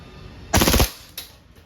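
Rapid full-auto burst from a WE airsoft 5.1 Type K gas blowback pistol, a tight string of sharp cracks lasting about a third of a second, followed by a fainter single clack a moment later, with no talking.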